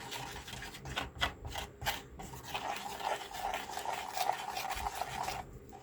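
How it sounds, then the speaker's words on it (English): A thermochromic powder mixture is stirred in a heart-shaped mold, producing quiet, close scraping and rubbing strokes in an irregular rhythm. "And then I'm going to stir this."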